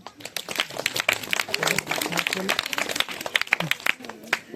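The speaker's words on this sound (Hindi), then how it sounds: "चलो बच्चों को ताली बजा लो अपने लिए।" Schoolchildren at a gathering clap for themselves in quick, uneven bursts of sharp hand claps, close and fairly loud, with voices talking over and between the claps.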